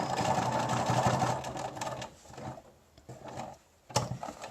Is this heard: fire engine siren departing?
no